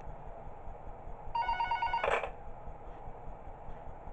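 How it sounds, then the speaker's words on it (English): In the video game Five Nights at Wario's, a phone rings once in a short electronic trill, cut off by a brief click as it is muted, over a low steady background hum. "Always have to mute the phone call because I've already heard it."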